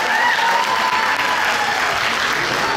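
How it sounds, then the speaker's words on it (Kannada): Loud, sustained applause from the audience after a men's group dance at a Deepawali celebration, a thick, continuous clatter of many hands lasting a few seconds with no talk over it. "ಇನ್ನೊಮ್ಮೆ ಚಪ್ಪಾಳೆ ತಟ್ಟಿ ಅವ್ರನ್ನ ಎನ್ಕರೇಜ್ ಮಾಡಿ"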